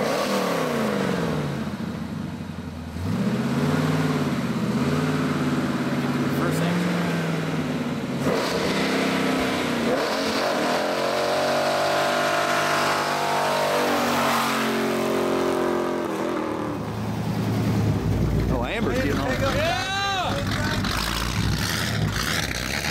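Daytona Dave's 1932 pickup hot rod doing a burnout at a Johnny Paycheck memorial event, a loud engine revving and roaring continuously with rising and falling pitch, while people talk over it.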